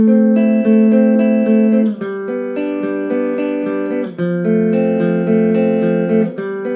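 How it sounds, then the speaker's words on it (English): Sustained, harmonized electric guitar lines move through a few chord changes, two parts ringing together in close parallel intervals, loud and steady with no talking. "So that harmony guitar, a third below, will sound like this."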